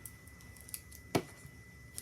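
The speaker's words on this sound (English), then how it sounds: "Grab my scissors." A single crisp snip of scissors cutting a piece of sheer ribbon, brief and close, with a couple of faint clicks around it in an otherwise quiet room.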